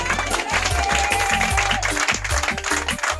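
A crowd at a communal committee installation in Nganza, Kasai Central, claps and cheers loudly and steadily, with some voices and music mixed in under the applause.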